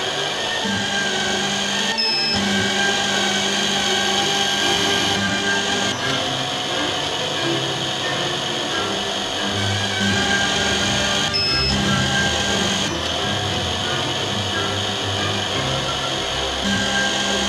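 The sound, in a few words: Canton CT5412 lens drilling machine drilling eyeglass lens holes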